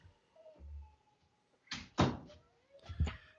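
A bathroom door pushed shut indoors, with a few close, sharp thumps and rattles spread across a couple of seconds and quiet gaps between them.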